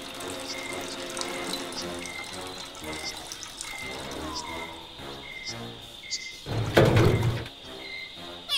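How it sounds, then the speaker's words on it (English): Gasoline pouring into a pond makes a steady trickling stream of liquid into water, with crickets chirping in a regular pulse behind it and a brief louder splash near the end. "Luigi pouring gasoline into the pond?"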